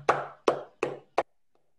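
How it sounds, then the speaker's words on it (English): On a Zoom call, a single person claps four times in an evenly spaced rhythm, each clap sharp and close to the microphone, followed by silence. "Big round of applause for everyone"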